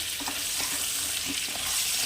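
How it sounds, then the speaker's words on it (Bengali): Pieces of pointed gourd (potol) fry lightly in leftover fish-frying oil in a wok. A dense, even sizzle fills the whole stretch, with faint stirring knocks underneath. "এবার এটাকে আমি একটুখানি ভালো করে, একদম পুরো কড়া করব না, হালকা ভেজে নেব"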